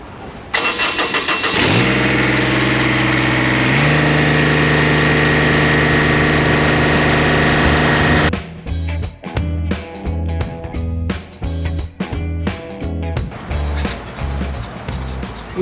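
A farm tractor engine cranks, catches and runs up to a steady high-revving roar to warm up, then drops into a lumpy, chugging idle with uneven pulses, close and loud with no talk.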